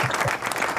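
A brief burst of dense clapping from an audience, loud and close, lasting under a second.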